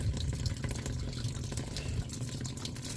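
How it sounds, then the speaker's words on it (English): Water running through a rock tumbler barrel being rinsed out, a steady splashing flow with low gurgles and sloshing, close and continuous. "rinsing out this barrel"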